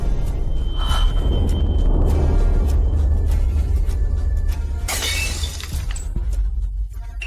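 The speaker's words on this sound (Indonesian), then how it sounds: "Tidak sengaja pecah." Something breaks and shatters in a drama scene, a loud burst of fragments that dies into scattered tinkles and a bright crash near the end, with no talk over it.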